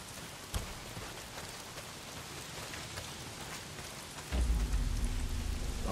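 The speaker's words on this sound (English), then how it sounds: "Well, not if it's pissing down rain." Heavy rain pours down in the video game Days Gone, a steady hiss of falling water with scattered drop impacts, swelling louder near the end with a deeper low rumble like thunder.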